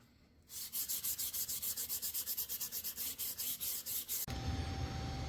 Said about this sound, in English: Well, I got these things sanded up